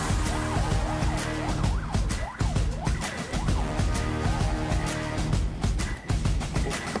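A loud wailing siren, rising and falling repeatedly in a fast cycle, signals the start of a firefighting challenge in a game, filling the clip continuously at close range without speech.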